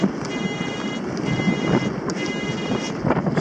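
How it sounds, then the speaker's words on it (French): Wind blowing at the seashore during a small storm rushes steadily against the microphone, loud and continuous, with a soft wash of surf beneath and brief gusty flutters. "là le vent, j'ai l'impression qu'il s'est levé"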